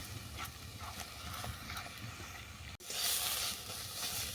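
Saag greens sautéing in oil in a pan, a steady close hiss and sizzle that swells louder partway through, with faint scraping underneath and no talking.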